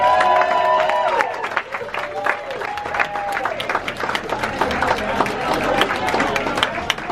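A comedy club audience applauds and cheers for stand-up comedian Bill Morrison at the close of his set, dense clapping with scattered whoops continuing steadily throughout.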